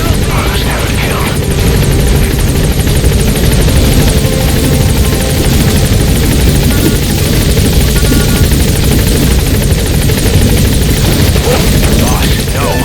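A rotor-thumping extraction helicopter in the video game Metal Gear Solid V drones loudly and steadily throughout, with voices and game chatter heard over the constant engine and blade noise.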